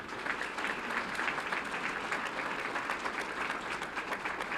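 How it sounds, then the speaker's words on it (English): Audience applause at a Fort Worth ISD school board meeting honoring families, friends, teachers and principals, a steady, even wash of clapping from the room throughout. "Let's give them a round of applause."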